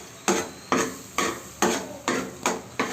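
A spoon stirs ground masala paste through hot oil in a pan for egg curry, seven evenly spaced scraping strokes with a soft sizzle between them, close and clear with no talking.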